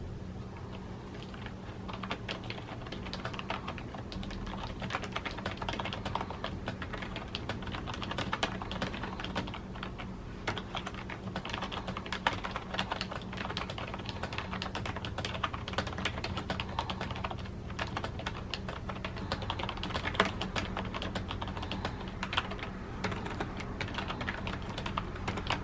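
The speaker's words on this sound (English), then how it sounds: "here's what the keyboard sounds like." Steady, rapid typing on a Cooler Master Devastator 3 membrane keyboard, soft muted keystrokes in a continuous run with occasional slightly louder presses, close to the microphone for about 26 seconds.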